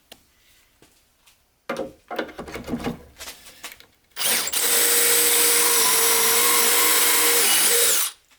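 A power drill bores into a wooden bookcase being built, a loud, steady whine lasting about four seconds after a few quieter knocks and handling sounds.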